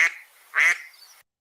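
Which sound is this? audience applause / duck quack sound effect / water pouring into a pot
duck quack sound effect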